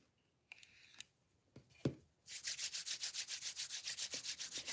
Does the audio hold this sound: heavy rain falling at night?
no